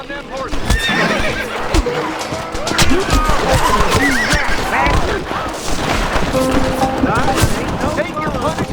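Horses whinny loudly in the Western video game Red Dead Redemption, layered over clip-clopping hooves and bursts of gunfire in a busy, noisy scene.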